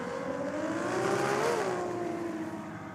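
A small drag racing car at a championship meet launches and accelerates down the strip, its engine a steady, loud rising drone with a pitch sweep midway, heard at a distance without talk.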